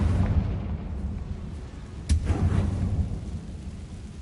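A Confringo blasting spell erupts in Hogwarts Legacy, one sharp explosive burst midway through over a steady low rumbling battle din, loud and close.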